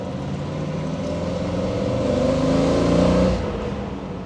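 A 1966 Corvette convertible with a 327 cubic-inch, 300 hp V8 revving, a loud, rich, throaty engine roar that swells to a peak and then eases off, close and alone.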